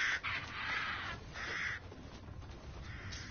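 Crows caw repeatedly in Resident Evil Village, harsh calls in several bursts over a steady low background rumble, fairly close.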